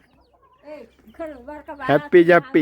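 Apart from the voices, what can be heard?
hens clucking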